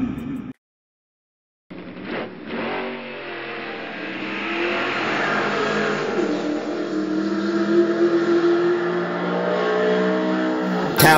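1/32-scale slot cars in a drag race tournament let out a loud, steady motor whine that rises and holds for about nine seconds after a short silence, with no talking.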